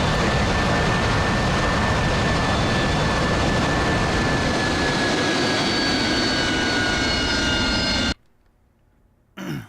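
Aircraft engine noise from a flight video game: a loud, steady roar with a high whine that runs continuously, then cuts abruptly to near silence just before the end.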